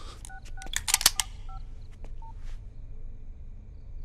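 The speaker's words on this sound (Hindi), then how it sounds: "राकेश भाई, एक फोन सिडनी को।" A telephone number dialed on a keypad for a call to Sydney: a quick run of short DTMF tones clustered in the first second, then a few sparser beeps, close and clear over a quiet background.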